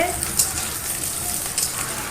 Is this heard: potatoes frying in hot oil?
yes